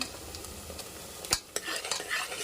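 Onions and green chillies fry in hot oil in a home kitchen pan, a soft steady sizzle broken by a few sharp scrapes and clinks of a spoon stirring against the metal.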